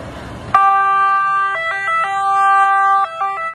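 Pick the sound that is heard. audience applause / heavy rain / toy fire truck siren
toy fire truck siren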